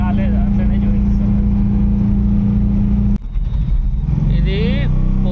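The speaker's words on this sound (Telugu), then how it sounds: "ఇది బండిని ఇటు హైవే దగ్గర ఒక దగ్గర ఆపి ఫుల్ రేస్ ఇస్తున్నాను" A Mahindra Jeeto with a DEF error stands parked near a highway, its engine held at full throttle in a loud, steady, close drone. Partway through, the tone briefly breaks up and then carries on.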